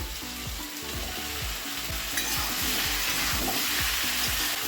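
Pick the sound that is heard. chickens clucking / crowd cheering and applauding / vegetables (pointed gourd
vegetables (pointed gourd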